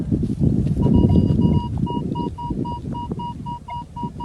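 A metal detector sounds a steady, repeating electronic tone while sweeping over a buried target in a field, the beeps pulsing evenly above low rumbling handling noise and wind.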